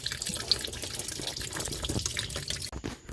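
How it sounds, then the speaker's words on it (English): Coolant drains out of a Ram 1500 Classic radiator in a steady, splashing stream, close and continuous, then breaks off abruptly near the end. "Once you take this off, just be prepared for a whole bunch of coolant to splash everywhere."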